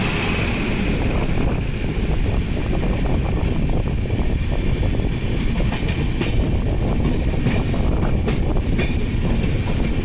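Loud, steady rumble of the Mysore to Shirdi Express running at speed, with continuous rattling and rushing noise throughout.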